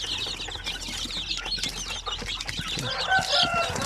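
Native Basilan and Zampen chicken chicks peeping continuously in a high, busy chorus with scattered clucks and wing flutters, close by and steady for several seconds.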